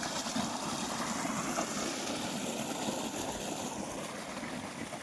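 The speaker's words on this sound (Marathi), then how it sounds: "मोटर तर चालूच आहे." A small boat motor runs steadily on open water, a continuous low drone mixed with water rush and splashing, fairly faint and unbroken, with no one talking.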